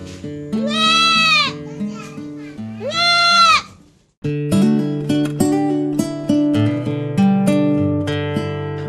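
Etawa goats on a farm give two loud, close bleats, then a busier stretch of overlapping cries and calls follows after a short pause.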